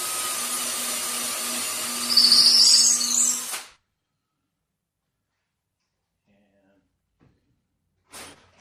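A power drill whines steadily while drilling a small pilot hole for quarter-inch lag bolts into 2x4s, rising briefly in strain before stopping, followed by silence and a short final burst; no speech over it.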